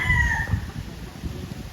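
Farm chickens, a flock of gamefowl kept in a lower yard, give a brief call at the start, and quieter outdoor farm ambience follows.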